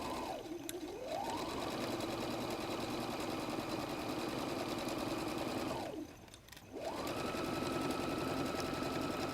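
A sewing machine stitches the side seam of a messenger bag in steady, close runs, speeding up to a fast whir, pausing briefly for a backstitch, then running on again at an even pace.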